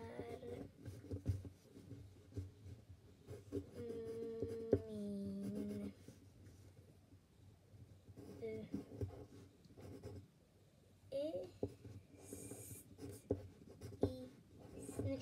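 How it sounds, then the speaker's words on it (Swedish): A pen scratches across a folded paper letter in quiet, close strokes, with short pauses between words and faint indoor background sounds. "Då kan man skriva något här."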